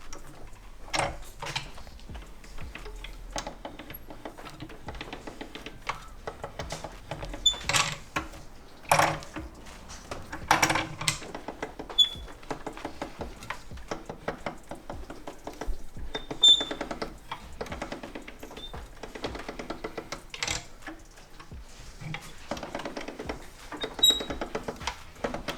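Bead rolling machine forming a bead on the cut end of an intercooler boost pipe, a steady run of mechanical clicks and rattles with sharper metallic knocks now and then, close and fairly loud.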